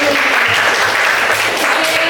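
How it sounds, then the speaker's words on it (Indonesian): Applause from a classroom of students after a group presentation, a dense steady patter of many hands clapping close by for about two seconds with faint voices underneath. "Terima kasih untuk kelompok 1, tepuk tangan."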